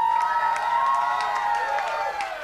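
Concert audience cheering, whooping and applauding after a folk night show at a chapter house, a loud, steady crowd roar with high shouts and whistles running throughout.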